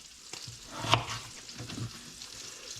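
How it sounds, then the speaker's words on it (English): Potato cubes frying in oil for oyster chowder give a close, steady sizzle with a few sharp pops and crackles, and no talking. "And then basically you're making French fries."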